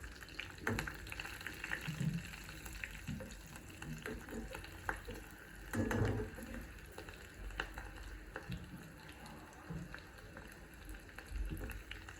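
Mustard seeds, cumin, curry leaves and green chili crackle and sizzle in hot oil, a busy close-up spatter with scattered pops and stirring noises, fairly quiet overall with no speech.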